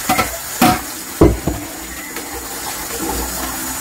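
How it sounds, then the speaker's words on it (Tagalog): Cold water is poured over cooked broccoli in a home kitchen while making a beef and broccoli stir fry. There are short splashing bursts near the start, then a quieter trickle fades out. "Lalagay niyo dito sa malamig na tubig ang broccoli para hindi siya ma-overcook"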